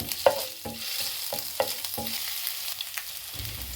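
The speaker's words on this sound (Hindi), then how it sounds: "लहसुन अदरक के पेस्ट को हल्का सा हम फ्राई करेंगे" Quiet sizzle of garlic ginger paste frying in oil, with several sharp scrapes of a spoon stirring the pan at a steady pace.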